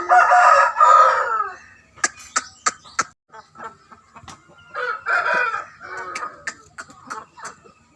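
A red Aseel rooster lets out a loud, close crow at the start, then gives a run of sharp clucks and short calls, with a second crow-like burst partway through.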